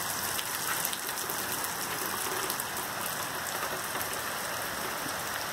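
Steady rain falls during a storm outdoors, a dense, even hiss of drops on surfaces that holds constant from start to finish with no talk over it.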